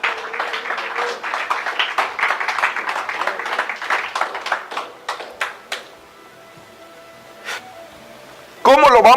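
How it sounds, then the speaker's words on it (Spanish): A church congregation claps together through the opening stretch, steady and dense, thinning out after a few seconds into quiet, with a brief sound near the end. "Dele un aplauso al Señor"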